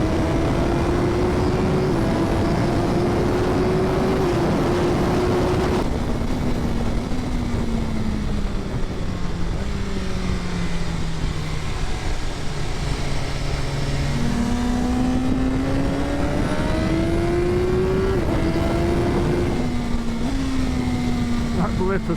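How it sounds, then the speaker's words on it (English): Engine of a 2025 BMW S1000R ridden on the Almeria track, a loud continuous roar rising and dropping through gear changes with quick blipped downshifts, heavy wind rush over it throughout. "Blipper sounds absolutely incredible."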